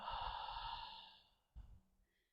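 Slow exhalation during a beginner yoga session by a river: one long, breathy outflow that fades away, then a shorter, sharper breath near the end. Both are close and fairly quiet, with no talking.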